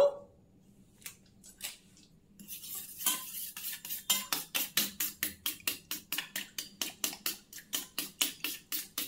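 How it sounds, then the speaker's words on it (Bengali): Spoon stirring saffron into kewra water in a small bowl: a few scattered taps at first, then a quick, steady run of metallic clinks and scrapes, close and clear with no voices. "এবার আমি জাফরানটা দিয়ে দিলাম কেওড়া জলের মধ্যে, দিয়ে মিশিয়ে নেব।"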